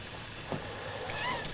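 Newborn kittens, about eight hours old, give a few faint, thin meows in quick succession, close by in a quiet room.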